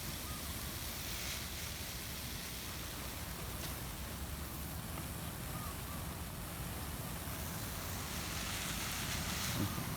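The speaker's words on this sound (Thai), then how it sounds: "ก็ใช้สายยางฉีดนะครับ ล้างนะครับ ล้างน้ำค้างให้เขานะครับ" A garden hose sprays water over durian tree leaves in an orchard, washing off morning dew with a continuous, even hiss that stays steady and fairly loud throughout.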